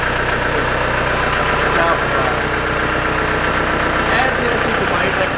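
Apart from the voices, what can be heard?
Solis Yanmar tractor engine idling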